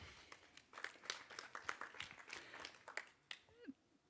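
Audience applause for Bogdan at the Cankarjev dom season presentation, scattered, fairly faint hand claps that patter unevenly for several seconds before dying away.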